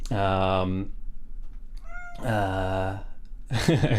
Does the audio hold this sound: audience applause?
no